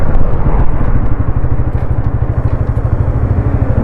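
A Bajaj Pulsar NS200 motorcycle is ridden with its engine loud and close, a rapid pulsing throb that runs unbroken throughout.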